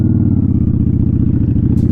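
Motorcycle pulling away after a downshift and rev match, a loud close engine with a steady pulsing low rumble throughout, no voices.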